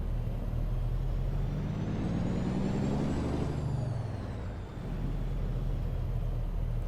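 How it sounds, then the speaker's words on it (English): A truck in American Truck Simulator backing up in a snowy winter setting, its engine humming steadily with a hiss of air brakes and a shift in engine pitch midway, loud and close without talk. "Let's just back it up a little bit here."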